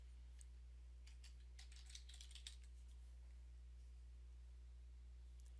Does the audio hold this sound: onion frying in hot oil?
no